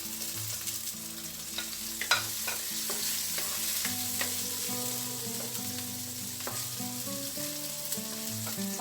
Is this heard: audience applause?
no